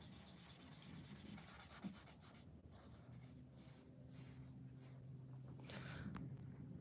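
Chisel-tip alcohol marker colouring a large area on paper: a steady, close, soft scratchy rubbing that continues throughout with slight rhythmic strokes.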